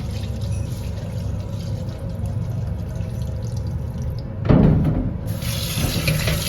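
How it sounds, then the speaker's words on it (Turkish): Tap water runs steadily while lentils are washed for soup, then a louder splashing pour midway as the rinse water is tipped off, close and without talk. "Şöyle suyunu tekrar değiştiriyoruz. Suyunu dökmemiz lazım."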